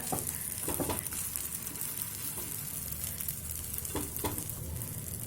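Egg and potato masala batter made with gram flour sizzles steadily in a hot pan, a dense continuous frying hiss with a few brief spoon or pouring sounds, close and alone.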